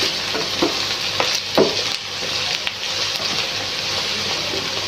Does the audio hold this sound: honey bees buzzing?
no